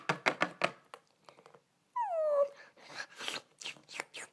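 A dog whimpers once with a single drawn-out, falling whine midway through, set among scattered soft knocks and faint indistinct sounds.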